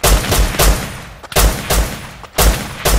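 Rapid bursts of gunfire from a multiplayer raid video game ring out loud and close, three clusters of shots spaced about a second apart with brief gaps between them.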